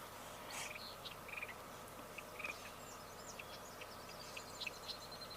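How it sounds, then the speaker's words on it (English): A willow flycatcher sings in an open area of a wetland preserve, faint and distant, with short, scattered chirps over a steady background hiss. "I believe I'm hearing a willow flycatcher."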